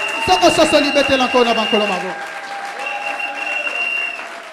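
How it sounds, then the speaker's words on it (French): A church congregation at a French-language Sunday service bursts into loud applause and acclamation, with voices calling out over the clapping, then the clapping fades to a lingering hum. "Si tu comprends ces choses, acclame le Seigneur des Seigneurs."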